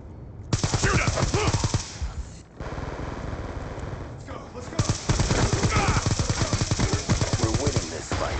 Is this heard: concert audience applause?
no